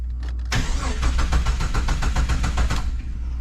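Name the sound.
Jeep 4.0 engine cranking and starting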